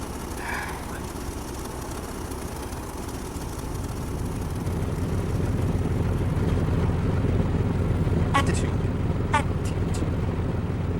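A car engine running with a steady low rumble that builds and holds, close by, with a few brief high clicks near the end.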